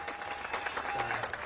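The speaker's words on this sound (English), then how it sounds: "His memory met with cheers and applause" Cheers and applause from a crowd honoring a fallen former Thai Navy SEAL rescuer, a steady wash of clapping and voices held for the whole moment, dense and sustained, with a faint tone running underneath.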